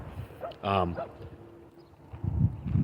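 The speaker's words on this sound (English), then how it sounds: "Who's barking?" A dog barks a single loud, close yelp, followed by softer movement and thumping noises in an otherwise quiet indoor space.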